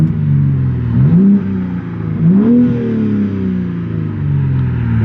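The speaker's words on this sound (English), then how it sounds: "they changed the exhaust on this car. It's way more refined. It's more toned. It's totally different." A modified BMW G80 M3 with a changed exhaust drones at a steady low pitch from inside the car, swelling twice in quick rev rises before settling back into a smooth, loud hum.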